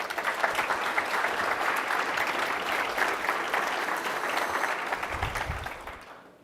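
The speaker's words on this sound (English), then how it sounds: "So let's give everyone a round of applause." An audience at an awards ceremony applauds with sustained, full clapping for about six seconds before it tapers off at the end.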